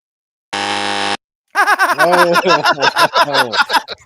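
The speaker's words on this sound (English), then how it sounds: "We got the buzzer, Sonny" A single loud, flat game show buzzer blares for about half a second, then people burst into laughter and talk right after it.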